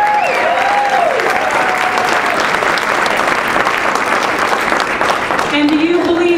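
An audience claps in sustained, dense applause at a steady level throughout, with a voice speaking over the clapping near the start and again at the end.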